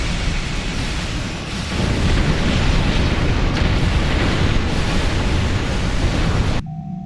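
Explosions in the Star Trek Online video game as alien ships are destroyed during a fleet battle, heard as a dense, continuous rumbling roar of overlapping booms that holds steady and loud before cutting off abruptly near the end.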